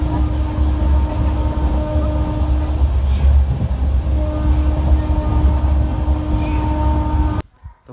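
A train rolls past at close range, a loud steady rumble with sustained tonal whine running for about seven seconds, then cutting off abruptly near the end.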